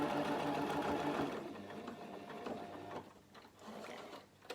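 Sewing machine stitching a vein line up the middle of a fabric leaf, a fast close mechanical whir that runs loudly, then slows into intermittent clicks and short bursts as the seam finishes.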